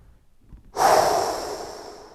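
A single deep, audible exhale during a golf stretching exercise for golfers over fifty, starting abruptly after a brief quiet moment and trailing off slowly, close and alone.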